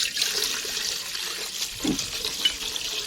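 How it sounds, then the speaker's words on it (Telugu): Water pours steadily into a cooking pot for rice on a wood-fired stove, a continuous close, hissing splash with a brief gurgle near the end, no talking. "ఎసరికి నీళ్ళు పోతుండు చూడు"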